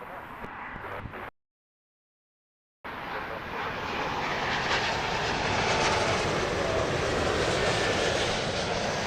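Heavy jet landing at Heathrow Airport, a loud broad engine roar building after a brief dropout and holding steady and close.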